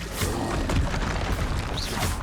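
A Bombarda spell blast from Hogwarts Legacy, a deep booming explosive rumble that fills the short stretch with heavy low-end noise and a faint bright magical shimmer near the end.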